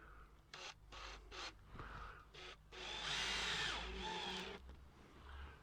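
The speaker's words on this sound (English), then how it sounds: "just pop a couple of screws in to the fixing" A power drill drives screws into a garden fixing, several short buzzing bursts followed by a longer sustained whir near the end, fairly quiet and close, with light handling knocks between the runs.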